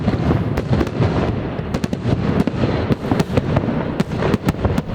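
Fireworks burst at a Japanese night festival in Chichibu, a rapid irregular barrage of sharp cracks and booms overlapping one another, loud and close, with crackling between the larger reports.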